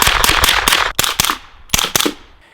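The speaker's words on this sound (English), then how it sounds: "It is definitely loud, and it's supersonic, so it still has that crack." A suppressed B&T APC9k fires supersonic NATO-spec 9mm rounds, giving a rapid string of loud, close cracks in two bursts separated by a short pause.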